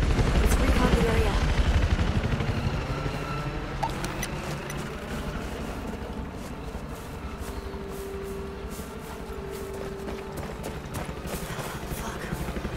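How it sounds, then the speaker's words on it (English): A Battlefield 4 helicopter approaches amid gunfire, its rotor thump and turbine whine building loud and continuous over a busy battlefield, with clattering bursts and a voice shouting over the noise. "Watch out! Incoming helo!"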